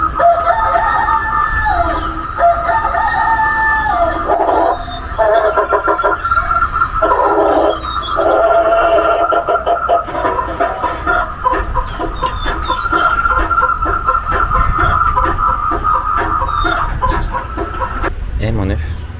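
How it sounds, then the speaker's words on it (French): Chickens and a rooster cluck and crow continuously and loudly for nearly twenty seconds, with repeated clucking phrases and crowing calls overlapping in a busy, close farmyard chorus, with some voices mixed in. "là c'est une poule, c'est un coq"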